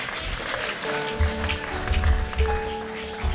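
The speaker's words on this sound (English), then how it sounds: "Can we give him a round of applause?" Applause from the audience at a hot, crowded Chicago ward mayoral forum, steady clapping with tonal hum and low thumps running through it, moderately loud throughout.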